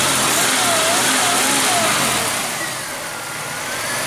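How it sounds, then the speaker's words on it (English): A Pontiac Silhouette minivan engine with a running fault is revved up, rising in pitch and then easing back, loud and close, while a voice is faintly heard over it. "You rev it up a little bit."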